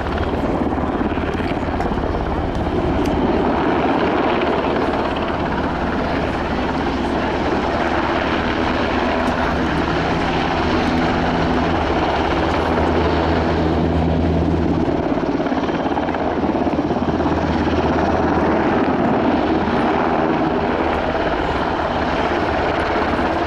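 An NH90 TTH helicopter of the German Army Aviation flies past at the RIAT 2022 airshow, its loud, steady rotor and turbine roar filling the whole stretch, with a low throbbing beat from the rotor blades.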